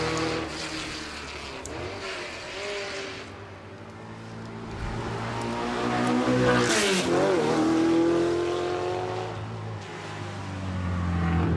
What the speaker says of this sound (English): as the Alfa Romeo Type 33 gets to the top of the hill